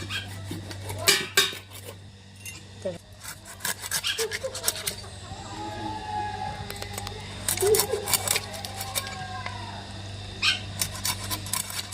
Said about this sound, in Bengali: এবার মাছ থেকে এরকম কেটে নিই।